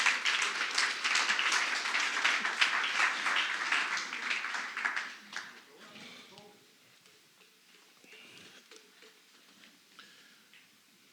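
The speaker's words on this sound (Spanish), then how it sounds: "Denle un aplauso a la iglesia." A church congregation bursts into applause during a Spanish-language sermon, steady clapping for about five seconds before it quickly dies away to a quiet room with faint scattered sounds.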